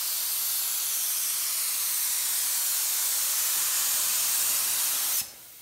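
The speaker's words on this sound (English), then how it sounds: "So let's spray some clear, 28 to 29 pounds on your gauge." A spray gun at 28 to 29 psi laying clear coat over car paint, a loud, steady, close hiss lasting about five seconds before it cuts off abruptly.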